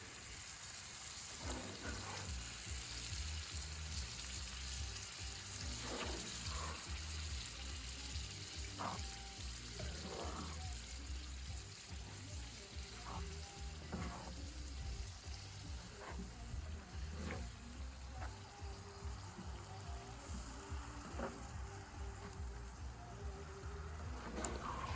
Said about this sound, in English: just keep mixing it around and letting it simmer and blend